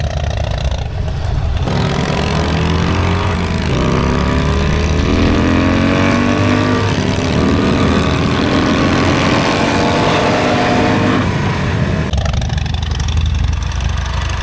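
Motorcycles (hogs) cruise near Conway, New Hampshire, on the way to Mount Washington during Laconia Bike Week, a steady engine roar with rising and falling pitch as throttles open, loud and close for about ten seconds before easing back.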